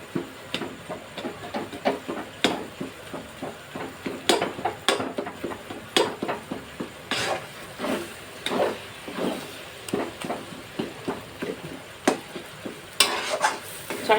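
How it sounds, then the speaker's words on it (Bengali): Garlic fries in a pan while a spatula stirs it again and again, giving repeated clacks and scrapes against the pan over a soft, continuous sizzle, with no talking. "বারবার ভালো করে নাড়তে নাড়তে, আর রসুন দেখা যাবে না, এমনি এমনি করে আমি বারবারই নাড়বো আর শুকাবো।"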